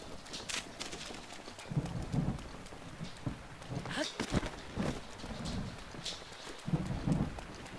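Steady rain falls in Zelda: Breath of the Wild, a soft hiss running under repeated clip-clop horse hoofbeats, with someone talking over it now and then.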